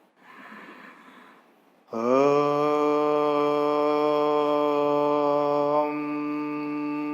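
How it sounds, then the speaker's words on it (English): A deep, breathy inhalation during seated Ashtanga yoga practice lasts under two seconds and is followed at once by a loud, sustained chanting voice. "Join your both palms together. Close your eyes. Inhale."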